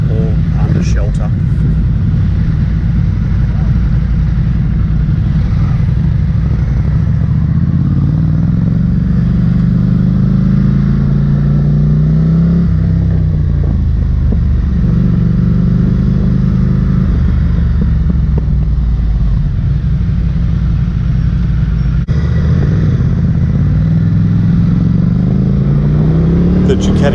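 Ducati Scrambler Cafe Racer motorcycle ridden along, its engine droning steadily with rising and falling revs and a constant wind-rush beneath a rider talking continuously throughout.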